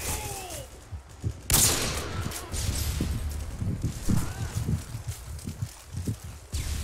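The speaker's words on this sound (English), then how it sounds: "I just got sniped" A single sharp, loud sniper rifle crack rings out in Call of Duty MW2 multiplayer, followed by softer scattered thuds and footsteps against the game's background noise.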